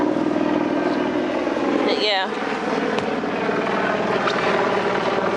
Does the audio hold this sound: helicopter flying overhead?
yes